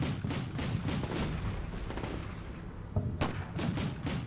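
A Bradley fighting vehicle in a combat video game fires its gun in a string of rapid, thudding bursts, fairly faint and slightly distant, with a sharper crack near the end.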